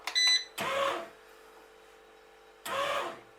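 A Breville bread maker makes mechanical whirring and clunking in two bursts after starting, with a steady low hum between them, close by and fairly loud.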